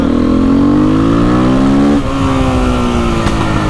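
A Husqvarna 510 SMR motorcycle engine revs hard and close, its pitch climbing steadily for two seconds before dropping back to a rough, loud idle.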